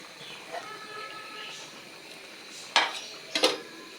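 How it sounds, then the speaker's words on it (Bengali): A metal lid set onto a pot of fish curry with brinjal, radish, potato and tilapia: a quiet simmering background, then two sharp clanks close together near the end. "এখন আমি ঢাকনা দিয়ে ঢেকে দেব"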